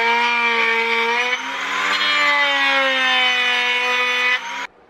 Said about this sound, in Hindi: तो इस राउटर से मैं कोशिश करती हूँ कि साइड की लाइंस को सीधा कर लूँ।